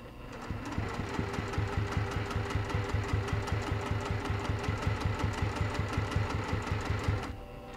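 A sewing machine runs steadily for about seven seconds stitching quilt binding at a quarter-inch seam allowance, a close, loud, rapid mechanical chatter of regular stitch beats that stops abruptly at the end.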